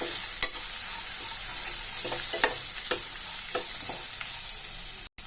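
Onions and tomatoes with turmeric sizzle steadily in a hot pan, with a few sharp scraping stirs of a utensil over the frying.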